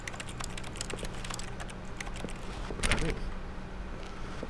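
Rapid keyboard typing played from mouse clicks in The Stanley Parable, a dense run of quick key clicks with a brief louder flurry midway, steady and close.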